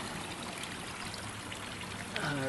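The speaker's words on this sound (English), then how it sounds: "Just need to fill this up higher with water" Water from a hose steadily fills a turtle stock tank, a continuous broadband rushing and trickling stream that stays even throughout, with a slight shift in tone near the end.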